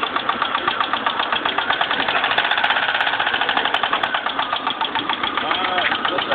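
Car engine, low on oil, revved and knocking, giving a fast rapid rattling pulse over a steady mid-pitched running drone, close and loud throughout, with no talk.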